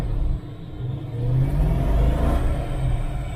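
A Holden 355 stroker V8 revs hard on a dyno, its deep, loud rumble dipping briefly before climbing again into a sustained high-load roar, close and alone.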